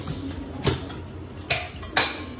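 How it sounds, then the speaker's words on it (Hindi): Meat being browned (bhuna) in a pot for chicken tabaki, heard as a steady cooking background with a few sharp metallic clinks of a spoon against the pot, close and moderately loud. "मैंने कहा मैं गोश्त को ज़रा भून लूँ"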